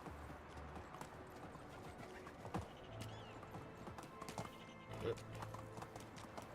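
Horse hooves clip-clop steadily at a walking pace in the medieval village game Medieval Dynasty, moderately close, with ambient game sound and faint low-level sounds around them.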